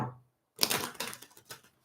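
A quick burst of papery riffling as tarot cards are shuffled, close and crisp, with a couple of short flicks after a brief pause.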